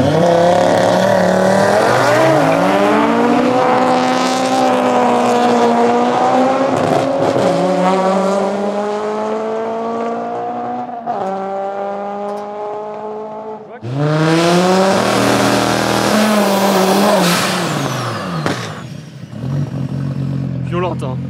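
A naturally aspirated Honda Civic with a B20 VTEC engine descending a hill road on a run, engine revving high and climbing through gears with a sharp shift, loud and close, people talking over it.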